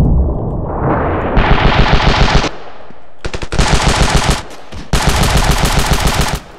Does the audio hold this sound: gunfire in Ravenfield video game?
yes